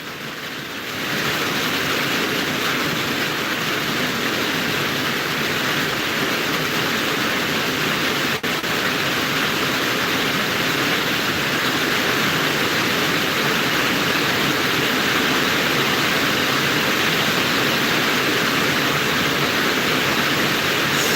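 Heavy rain pours in a steady, loud, unbroken hiss that holds for about twenty seconds with no voices.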